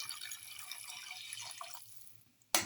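Water poured into a cooking pot for a tomato rice casserole, a steady splashing trickle that fades out, then a sudden short clatter right at the end.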